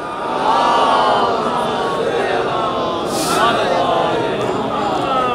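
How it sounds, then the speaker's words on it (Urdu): A large congregation at a Muharram religious gathering recites salawat together in a loud, sustained chorus of many voices that fills the space, swelling and holding steady without pause. "ایک اور بلند ترین صلوات پڑھ دیں آپ حضرات"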